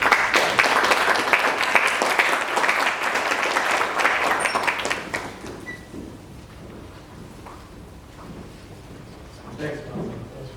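An audience at a Callaloo poetry reading in Barbados applauds to welcome poet Gregory Bartlett, a dense, loud burst of clapping that fades to scattered claps and room noise after about five seconds.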